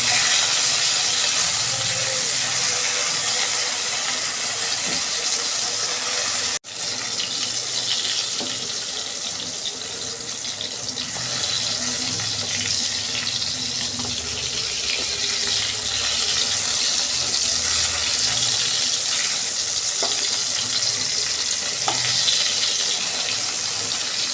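Eggplant frying in a pan and being turned over makes a loud, unbroken hiss that drops out for a moment early on, then carries on evenly.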